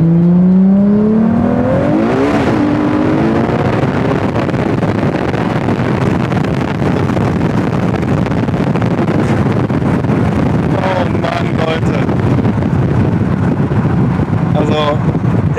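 A Ferrari Monza SP1 being driven, its engine rising in pitch early on and then droning steadily under heavy wind rush, with someone talking over it throughout.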